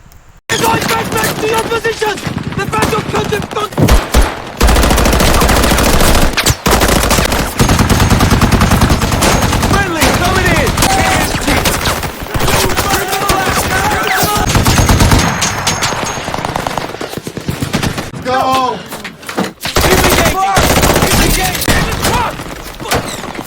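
Automatic rifle and machine-gun fire rattle in a war movie battle scene in the valleys of Afghanistan, dense bursts and single sharp shots crowding the scene, loud and close, with a narrator speaking over parts of it.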